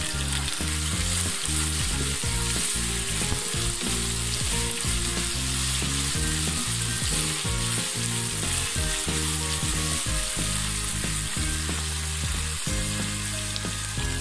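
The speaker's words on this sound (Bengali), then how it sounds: "সবজিগুলোকে আমি ভেজে নিচ্ছি ভালোভাবে।" Vegetables for Thai egg noodles sizzle and fry steadily in a hot pan, a loud continuous crackle with occasional stirring scrapes throughout, no voices.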